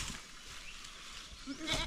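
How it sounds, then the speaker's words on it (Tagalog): Goats on a farm give a short harmonic bleat near the end, over faint outdoor background noise with no one talking. "Yung mga lalaki nating kambing andun na sa kabila nilagay."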